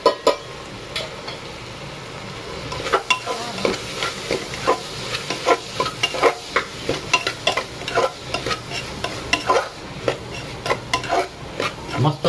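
Spices stirred into dried-fish (sukat) rice frying in a pan: repeated scraping stir strokes and spoon clinks over a steady low sizzle, close and fairly loud, with no talking.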